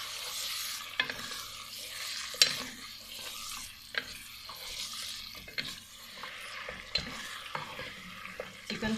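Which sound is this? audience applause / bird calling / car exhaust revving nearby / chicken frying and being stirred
chicken frying and being stirred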